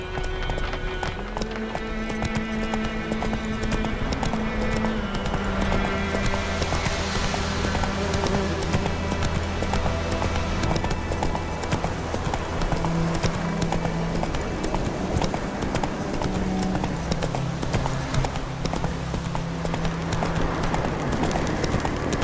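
The horse Roach galloping in the video game The Witcher 3: continuous rapid hoofbeats at a steady rhythm, loud and close, over game music and ambience.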